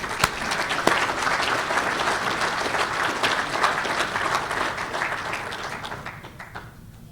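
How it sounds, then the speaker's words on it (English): An audience at an Upstate NY basketball hall of fame induction claps in a sustained, even round of applause that fades toward the end. "Can we have a round of applause for Tom and Aaron Herter,"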